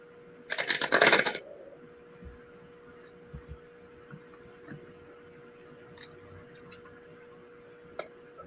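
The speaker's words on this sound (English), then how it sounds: "Oh, let me shuffle again." Tarot cards being shuffled, a loud dense riffling burst lasting about a second near the start, then only faint scattered handling taps over a steady low hum.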